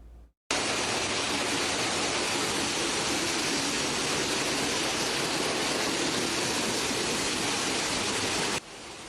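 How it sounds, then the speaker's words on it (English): Water gushes loudly and steadily from a burst water main flooding a hospital in Niagara Falls, a constant close roaring torrent that cuts in abruptly and runs unbroken for several seconds. "A water main break flooded the hospital Saturday morning."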